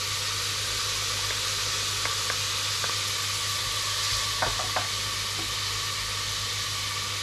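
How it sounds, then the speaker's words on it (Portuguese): Garlic sizzling in a pan of oil as the base for Portuguese duck rice, a steady close hiss and crackle with a few sharp clicks of stirring, no talking. "Vamos colocar o alho."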